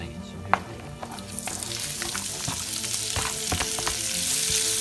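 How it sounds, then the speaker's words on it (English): Sliced onions and bacon fry in olive oil in a pan for an Amatriciana sauce. A crackling sizzle builds and thickens after a couple of sharp clanks, with spattering pops rising toward the end and no voices. "we're gonna put it in with the bacon, and we're gonna cook that until it's like translucent"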